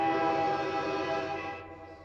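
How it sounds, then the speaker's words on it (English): A train horn sound effect played during a live Flyers versus Bruins preseason hockey commentary stream: one sustained, steady multi-tone blast at moderate level, tapering off near the end. "You want to play the train horn?"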